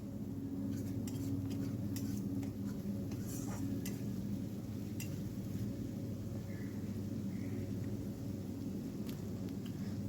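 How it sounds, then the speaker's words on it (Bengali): Spice paste stirred and fried with a little water in a pan, a steady soft sizzle with intermittent spoon scrapes and light clinks against the pan, close by and with no talking. "জল দিয়ে ভালো করে আবার মশলাটাকে 2 মিনিটের জন্য কষিয়ে নেব।"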